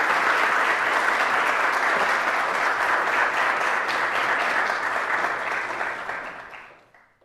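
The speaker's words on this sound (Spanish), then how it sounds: "Recibamos con un fuerte aplauso a la ingeniera Anabel Gallardo, presidenta del Consejo Económico y Social." Audience applause fills an auditorium at an evening business forum, steady dense clapping for about six seconds that then tapers and fades out.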